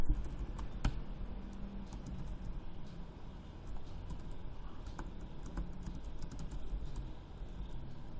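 Code being typed on a computer keyboard, soft scattered key clicks at an irregular pace over a faint background hum, quiet and close, with no talking.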